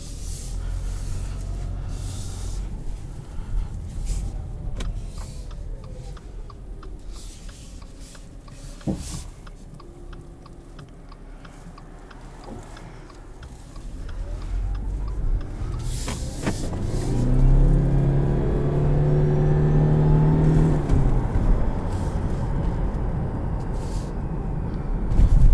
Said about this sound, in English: I love all the sounds a hybrid makes.